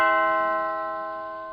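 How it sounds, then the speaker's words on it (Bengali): A calling bell rings once in a Bengali horror cartoon, a clear bright chime with layered tones that rings out and slowly fades, with nothing else heard. "এমন সময় নিচে কলিং বেল বেজে উঠল।"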